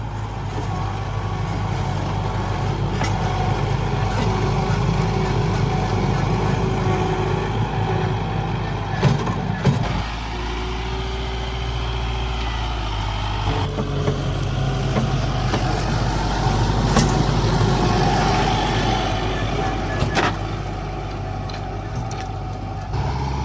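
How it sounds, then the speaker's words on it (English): A Farmall tractor with a tiller hooked up works garden ground for a fall garden, its engine a steady, loud, low rumble throughout, with a brief lull in pitch near the middle and no talk. "Now it's time to till this ground."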